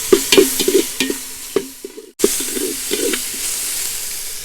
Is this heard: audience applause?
no